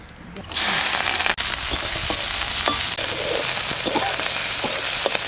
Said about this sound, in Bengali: এবার আমি লঙ্কা কটা ভাজা করবো পেঁয়াজ দিয়ে প্রায় কড়াইতে তেল দিয়ে দিচ্ছি